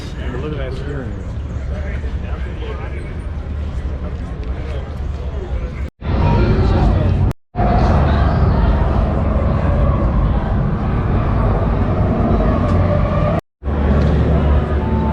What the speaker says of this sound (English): this is one convention hall here